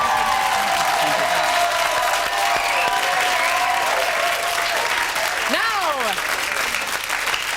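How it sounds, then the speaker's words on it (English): TV studio audience gives loud, sustained applause and cheering for footballer David Ginola, a thick roar of clapping with whistles rising over it and a voice speaking near the end. "Can we have a massive round of applause to the one, the only, David Ginola?"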